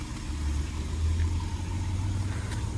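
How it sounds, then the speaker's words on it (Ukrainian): A steady, low engine rumble holds even and continuous, a 2013 Volkswagen Touareg idling close by, with no voices. "Мотор працює рівно та чітко"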